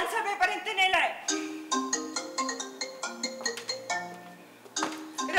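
A telephone ringtone plays as a repeating electronic melody of bright, evenly spaced tones, fairly close and steady, from a stage play scene.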